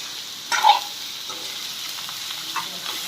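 Ivy gourd (dondakaya) fries in a pan, giving a soft continuous sizzle with a brief louder scrape of stirring near the start, fairly close and without talk.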